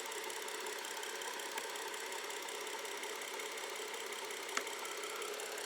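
A BMW 535 with low oil pressure idles steadily, a faint even engine drone with no change in pace and one brief tick near the end.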